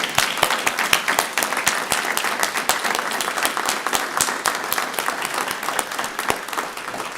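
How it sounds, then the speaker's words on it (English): Audience applause at a Brevard County Fire Rescue promotion ceremony, steady sustained clapping from a full room lasting throughout, dense and even with no voices standing out. "One big round of applause."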